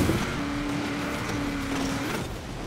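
A race car in the video game Forza Horizon 4 drives with a steady, continuous engine drone holding one pitch, alone and fairly loud throughout.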